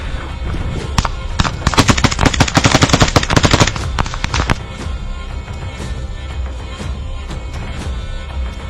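A loud burst of rapid automatic gunfire rattles for a few seconds, then trails into scattered single shots and background noise.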